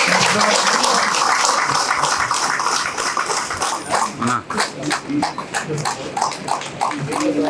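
An audience at a newspaper's 23rd anniversary event claps in a dense burst at the start, and the clapping thins into scattered claps while voices carry on.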